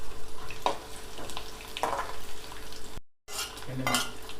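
Garlic and tempering seeds fry in oil over a low flame, with a soft continuous sizzle broken by repeated scraping stirs of a spoon in the pan and a brief dropout partway through.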